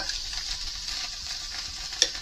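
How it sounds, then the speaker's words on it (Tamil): Mutton dalcha, a lentil and mutton stew, is stirred in a pot: a steady, soft scraping and bubbling texture with a faint sizzle, close by, and one brief clink near the end. No one speaks. "அப்படியே ஒரு கிண்டு கிண்டி அப்படியே ஒரு அஞ்சு நிமிஷம் தம்மில் போடுங்க"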